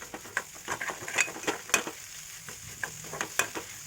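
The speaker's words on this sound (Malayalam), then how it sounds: "നന്നായിട്ട് ആ മുട്ടയൊക്കെ ഒന്ന് പൊടിഞ്ഞു വരുന്നത് വരെ ഇളക്കി ഫ്രൈ ചെയ്തെടുക്കുക" Eggs stir-fried in a pan for drumstick-leaf egg thoran, with a continuous sizzle broken by repeated sharp scraping and tapping strokes of a spatula, close and moderately loud, no talking.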